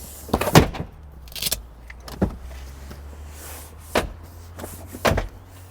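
Seats of a 2022 Kia Carnival minivan being folded back up, giving a series of loud mechanical clunks and latching thuds with softer rattles in between, close by inside the cabin.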